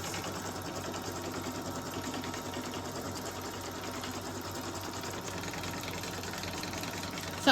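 A home embroidery machine stitches the placement outline for a snowman mini quilt block, a steady rapid mechanical whirring and tapping that runs continuously and evenly at close range, with no voices.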